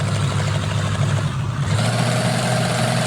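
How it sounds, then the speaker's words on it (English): A truck engine idling in the off-road mud game SpinTires, a loud steady mid-pitched rumble with a brief dip and slight rise in revs, heard alone without talk. "Wow, the engine sounds are awesome"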